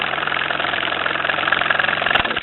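A small overtype toy steam engine runs smoothly at close range, a steady, fast mechanical chuffing and rattle that holds at an even level, with a sharp knock just before it ends.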